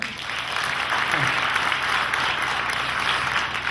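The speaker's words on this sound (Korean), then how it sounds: "박수 한번 주십시오." Audience applause at a Korean book-launch talk show, a dense burst of clapping filling the room briefly, with faint voices underneath.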